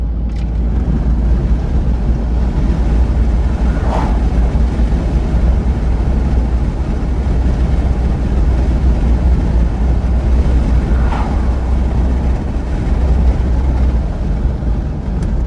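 Steady, loud roar of a car cruising at about 55 mph with wind rushing through an open window, continuous and unbroken, no voices.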